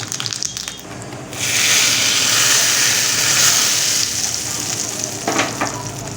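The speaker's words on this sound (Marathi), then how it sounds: "मी इथे तेल गरम करून घेतले फोडणी पात्रामध्ये त्यामध्ये थोडंसं जिरं घालायचं आहे" Cumin seeds are dropped into hot oil in a small tempering pan. A loud, close sizzle flares up after a brief pause and keeps frying steadily to the end.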